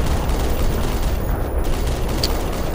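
Gunfire in the video game Black Mesa, a dense, continuous crackle of shots over roughly three seconds, loud and close, with a sharp spike near the end.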